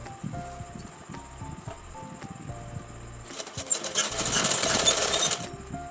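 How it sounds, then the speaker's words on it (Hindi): A sewing machine stitches fabric for a Rajputi kanchali blouse, starting with short stop-and-go bursts, then running in a longer, louder continuous whir, close by with no talk. "यहाँ पे जैसे जैसे बाजू में गोलाई आ रही है वैसे वैसे मशीन को रोकते जाना और कपड़े को सीधा करते हुए आपको सिलाई करनी है"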